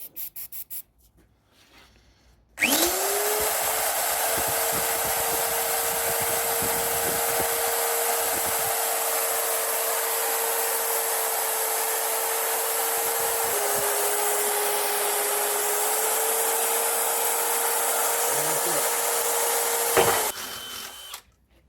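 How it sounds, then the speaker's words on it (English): A power drill runs steadily at close range for about seventeen seconds, its motor whine holding one pitch with slight shifts as it bores three holes for a padstone, then cuts off abruptly. "So we're going to drill 3 holes in there."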